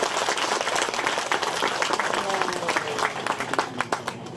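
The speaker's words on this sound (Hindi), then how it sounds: "Let's give him a round of applause." A church congregation at an opening ceremony breaks into applause, many hands clapping with some individual claps standing out near the end, while a voice talks over the clapping.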